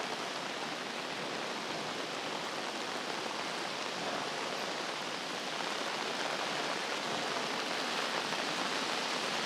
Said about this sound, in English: I don't think I'm probably very often see that sort of tropical heavy rain.